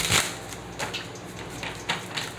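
Tarot cards being shuffled in a few quick riffling bursts, crisp papery flutters spaced about half a second apart, close and fairly quiet.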